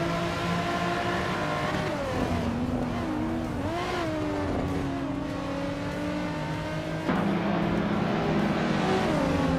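Race cars in a racing game, including a 2000 BMW Z8 in the modern streetcars class at Weatherfield Speedway, rev and accelerate at the start, engine tones climbing and shifting as several cars pull away together.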